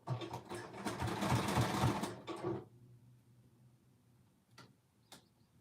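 A sewing machine stitches a dress in a rapid whirring burst for about two and a half seconds, then stops, followed by a couple of faint clicks in a quiet room.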